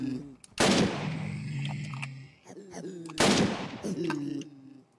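Two loud bursts of gunfire from a Western-themed Minecraft adventure game, each a sharp blast with a decaying tail, separated by about two and a half seconds, with quieter game sounds and rattles in between.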